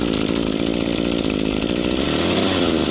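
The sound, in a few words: Echo SHC-225S hedge trimmer engine starting and running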